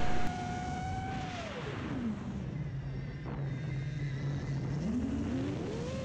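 An FPV quadcopter drone powered by 18650 Li-ion cells whines overhead as its throttle drops, the motor pitch falling, holding low as it floats over a tree, then rising again as power returns.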